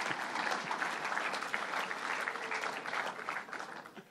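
Audience applause at a public budget announcement event, a dense steady clapping that holds evenly for a few seconds and thins slightly toward the end.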